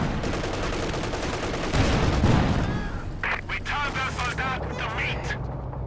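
Dense battle gunfire from a World War II tank strategy game match, with rapid rattling shots and heavy booms layered throughout, loud and continuous, while an announcer-style voice talks over the combat.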